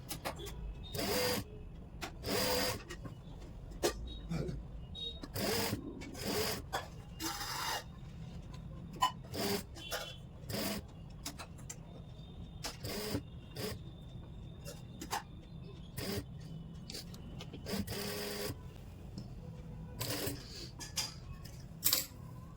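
A sewing machine stitches a folded seam on a women's suit in short, rapid bursts separated by pauses, close up and fairly loud, with soft fabric handling in the gaps and no talking.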